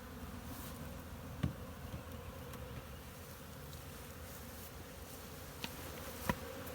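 Honeybees buzz around a new hive, a faint, steady drone of many insects with a few soft knocks, no voices.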